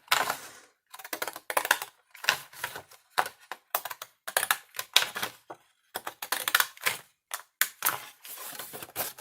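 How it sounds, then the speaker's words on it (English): Scissors cutting through thick paper in a run of crisp, uneven snips and crunches, close by and fairly loud, with brief pauses between cuts. "this paper is thick and the scissors is old."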